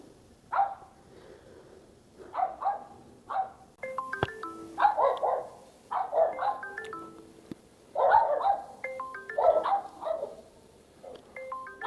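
A dog barks repeatedly outdoors, close by, in irregular bursts of several barks separated by short pauses, with some higher yips mixed in and a few soft background sounds.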